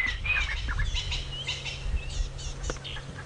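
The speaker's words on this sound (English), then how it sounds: "Lots of birdsong, which is odd for this sort of weather." Several birds call and chirp together in dawn bush on a safari drive, including rattling cisticolas, magpie shrikes and crested francolins. Their overlapping calls come from nearby over a steady low vehicle rumble, with no talking.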